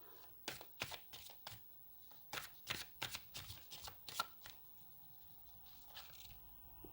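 Oracle cards being shuffled by hand, a run of about a dozen crisp riffling slaps in uneven rhythm, close and quiet, tapering into softer rustles near the end, with no speech.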